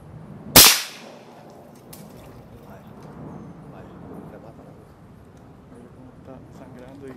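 One sharp, loud gunshot rings out close by during an iguana hunt, then fades into quiet outdoor ambience with people talking.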